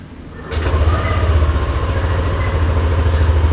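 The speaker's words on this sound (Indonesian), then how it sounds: "kita akan coba nyalakan mesinnya ya guys" A 2021 Yamaha Aerox 155 Connected ABS scooter starts with a quick crank, then settles into a loud, steady, close idle with a throbbing low rumble and no talk.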